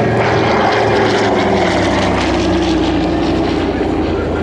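A Douglas DC-3 propeller airliner at an air show flies past, its piston engines and propellers giving a loud, steady, dense roar that fills the whole clip with no let-up.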